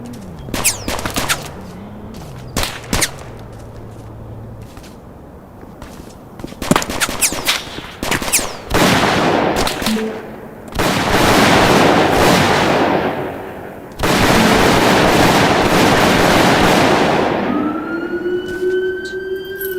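Glock 17 gunshots in the Roblox video game, heard as loud, sharp, scattered reports mixed with long noisy bursts and a rising siren-like tone, with no talking.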